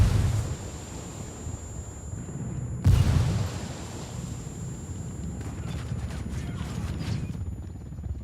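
A frag grenade blast in the Ghost Recon tactical shooter game, a sudden loud boom about three seconds in over a rumbling wind-like battle bed, followed by scattered crackling debris.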